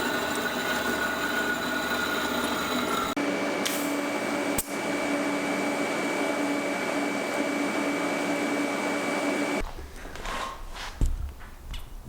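An old jack handle is cut into support pieces for a turbo EFI 660 lawnmower build. A loud, steady, close grinding whine holds for several seconds, then stops abruptly, leaving quieter shop clatter.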